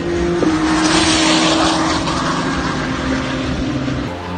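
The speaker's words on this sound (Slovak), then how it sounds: "Ten kompresor má neskutočný zvuk a strašne ho počuť, hlavne keď tu S2 preletí cieľovkou" Kawasaki Ninja H2 SX SE 2018 supercharged motorcycle heard from outside, roaring loudly and steadily with a sustained engine tone that shifts pitch as it passes, fading slightly at the end.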